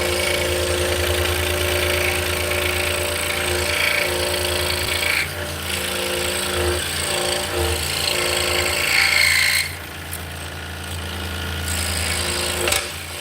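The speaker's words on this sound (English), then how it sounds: "cutting through the blue painter's tape helps lubricate the blade as well." A power saw runs steadily, its blade cutting through blue painter's tape during drop-spindle making, with a constant motor drone and grinding rasp at close range that dips briefly near the end, no talk.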